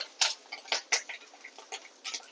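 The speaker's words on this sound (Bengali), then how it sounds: "দেখুন তেলটা গরম হয়ে গেছে, আমি এবার বড়াগুলো ছেড়ে দেবো তেলের মধ্যে।" Rohu fish roe fritters dropped into hot oil, crackling and popping close by in quick irregular bursts of spattering sizzle.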